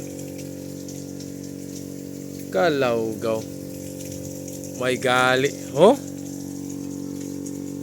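Water being drained from a fish pond or tank gushes in a steady, loud pumping rush throughout, while someone speaks briefly over it a few times.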